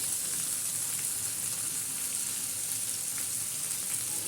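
Whole cumin seeds sizzle in hot oil in the middle of a pan on high flame while jackfruit is cooked, a steady loud frying hiss throughout with no voices.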